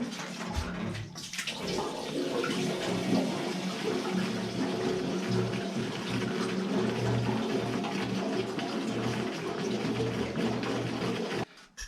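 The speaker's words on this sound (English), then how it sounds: "let's get the 50 to 1 fuel in there." 50:1 two-stroke fuel poured from a jerry can into the tank of an MZ TS125 motorcycle, a continuous close gurgling, splashing stream that runs steadily for about eleven seconds and stops abruptly, no talking.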